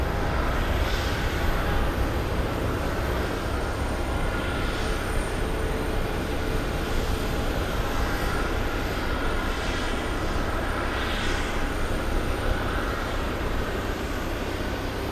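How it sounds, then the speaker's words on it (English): An airplane takes off at Boston Logan International Airport, its jet engines holding a loud, continuous roar throughout, steady and broadband with no voices. "They're just taking off from all directions today."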